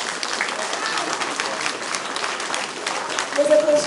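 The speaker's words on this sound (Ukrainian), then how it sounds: "Ваші оплески." Audience applause for a volunteer veterans' choir at a veterans' gathering, steady dense clapping from a hall crowd throughout, loud and continuous.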